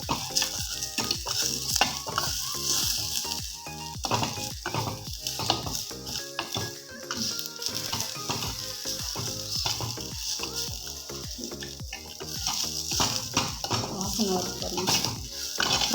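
Garlic and curry leaves sizzling and frying in a clay pot over a village cooking fire, with steady crackle and repeated stirring scrapes and clinks throughout, loud and close.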